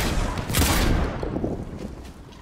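Video game gunfire crackles in a dense burst, loud and close, with a heavy volley near the start that thins toward the end.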